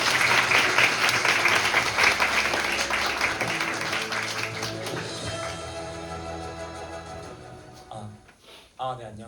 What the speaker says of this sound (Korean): 앞으로 나오실 때 모두 큰 박수로 환영해 주시기 바랍니다.